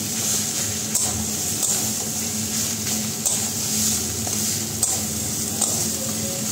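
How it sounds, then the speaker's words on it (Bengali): Red amaranth greens with poppy seeds are stirred in a pan over a gas flame, giving a close, steady sizzle punctuated by a few soft scraping strokes, with no talk. "দিয়ে আমি একটু সামান্য নাড়িয়ে এবার আমি এটা নামিয়ে দেবো"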